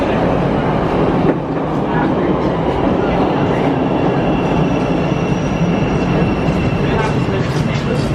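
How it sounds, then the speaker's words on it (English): Loud, constant rumble and rattle of a moving train from inside a carriage, with faint squealing tones running underneath. "Now I'm about to hop right back on this train, go right back home"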